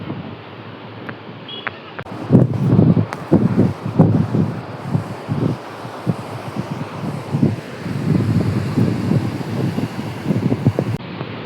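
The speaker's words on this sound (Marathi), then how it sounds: "मस्त मोठ्या लाटा येत आहेत." Waves surge and wash in on the Konkan shore at Kunkeshwar in two rough swells, mixed with heavy gusty wind buffeting the microphone; no voices.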